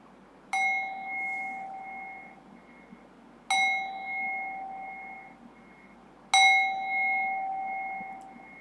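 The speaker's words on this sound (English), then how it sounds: "And then as you hear the bell," A meditation bell is struck three times at a slow, even pace to close a practice, each clear metallic ring sounding alone and fading into long sustained tones.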